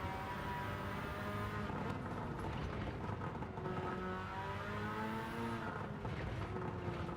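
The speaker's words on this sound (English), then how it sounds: "the distinctive back box burble you get with the rotary" Rotary engine in a racing video game gives a continuous rough exhaust burble, loud and steady throughout with no talking.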